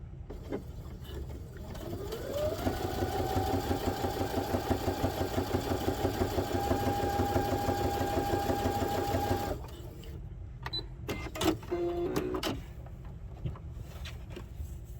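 A sewing machine stitches along the edge of a fabric pouch at a 3 stitch length, a steady rapid whir rising in speed, then stopping, followed by scattered clicks and handling sounds.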